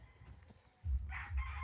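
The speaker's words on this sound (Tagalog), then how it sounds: "Hindi akin yung mga manok." Chickens on a small family poultry farm near Lipa, with a loud crowing or clucking burst after a quiet start, then continued close, fairly loud fowl calls.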